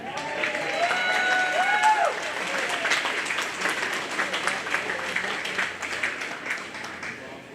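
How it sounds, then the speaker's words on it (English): Applause at a county fair youth awards ceremony in Greene County, Iowa, a steady patter of clapping under brief voices and a whistle-like tone early on, easing slightly toward the end. "And another big round of applause for our kids receiving blues"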